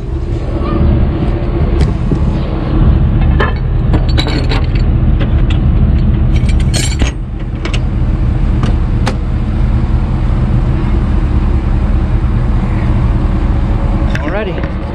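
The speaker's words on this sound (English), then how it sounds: "Just got back with this car and it's literally running. It's on." A car engine idles with a steady low rumble throughout, close and loud, with scattered clicks and rattles and occasional voice sounds over it.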